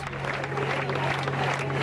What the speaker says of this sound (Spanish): escuchás de fondo el grito de justicia, aplausos